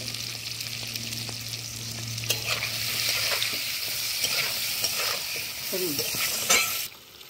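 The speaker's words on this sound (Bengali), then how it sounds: "হলুদ আর নুন দিয়ে আলুটা একটু ভালো করে ভেজে মশলাটা দেবো।" Potato chunks frying with turmeric and salt in a pan, a steady close sizzle with scraping stir strokes and a few sharper spatula clinks, no voices.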